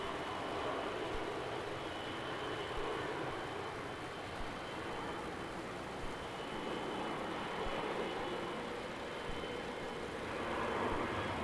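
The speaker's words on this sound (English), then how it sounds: "we are expecting a Qatari freight coming down from Sydney" A Qatar Airways cargo freighter arriving at Melbourne Airport at night, heard as a steady broad jet roar that holds throughout and swells slightly near the end, with no voices.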